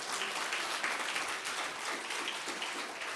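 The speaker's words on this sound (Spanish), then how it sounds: "Dele un aplauso a Jesús" Congregation applause in a church service, a dense, steady wash of many hands clapping at once, loud and continuous throughout with no speech over it.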